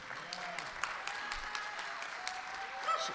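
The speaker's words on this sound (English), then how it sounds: "Can we give Clara Pratt a round of applause too?" A crowd applauds at a distance at a political convention caucus, a steady patter of many hands clapping with a faint voice beneath.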